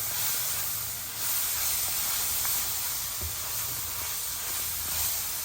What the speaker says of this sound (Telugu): అల్లం వెల్లుల్లిపాయ పేస్ట్ పచ్చి వాసన పోయే వరకు వేగాలండి